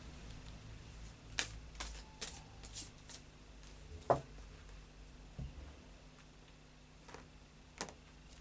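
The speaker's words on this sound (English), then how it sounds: "So I'll just do a final shuffle now." Oracle cards being shuffled by hand: quiet, sparse soft flicks and taps spaced a second or so apart against a faint background hum.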